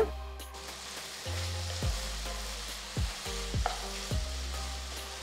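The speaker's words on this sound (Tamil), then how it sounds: "வெங்காயம் பாதி வதங்கினதும் 4 நறுக்கின தக்காளி சேர்த்து சாஃப்டாக வேக விடுங்க." Onions and tomatoes sizzle steadily in a hot pan, with occasional scraping and stirring knocks from a utensil over the constant frying hiss.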